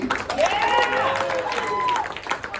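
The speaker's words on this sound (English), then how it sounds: "Let's get a big round of applause for Ms. Adri, everyone" Steady applause rises from a classroom or studio audience welcoming a guest historian, clapping and light cheering continuing under a voice and a faint warbling tone.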